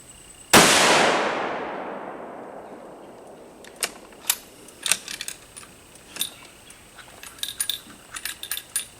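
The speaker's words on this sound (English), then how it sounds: "we're going to shoot the small bullseye with this one. This is a 150 grain spear." A single rifle shot at a target, fired from a Remington 742 or Savage Model 11 with 150-grain bullets, cracks sharply and rings out in a long decaying echo, followed by faint scattered clicks and taps.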